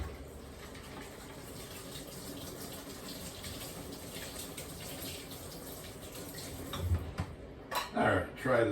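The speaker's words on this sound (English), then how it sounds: "Give it a quick rinse, except for that little piece right there." Food rinsed under running kitchen tap water while making homemade meatballs and spaghetti: a steady hiss of flowing water throughout, with a few clattering knocks near the end.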